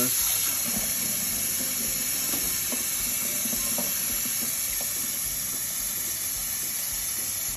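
Cold tap water runs steadily over eggs being rinsed in a kitchen sink, a continuous close hissing stream with no pauses.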